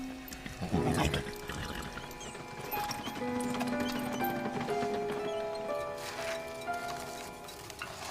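Hooves clopping at a walk amid a busy outdoor mix, with a horse's whinny near the start and musical tones underneath.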